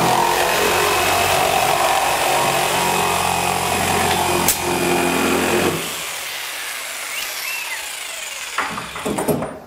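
Hand sawing through wood while building a DIY insect hotel, a steady close rasping of back-and-forth strokes that runs for several seconds, then thins to quieter scraping near the end.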